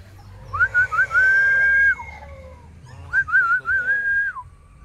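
A person whistles two melodic phrases close by, each a wavering run of short notes settling into a long held tone before dropping off, with a brief pause between and faint background murmur.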